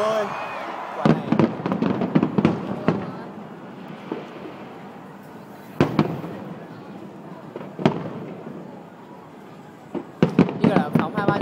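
Fireworks are launched at a night display, with sharp pops and crackling bursts arriving in clusters and then spaced apart, some near and loud, over a murmuring crowd and people talking.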